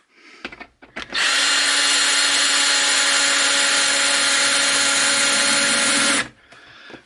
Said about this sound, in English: So we'll put a couple screws in it just to lock it down.